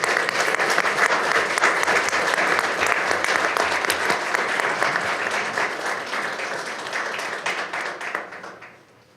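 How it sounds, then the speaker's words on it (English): Audience applause fills a city council meeting in Greer, South Carolina: sustained, loud clapping from many hands that gradually thins and fades out near the end. "Let's give them a round of applause"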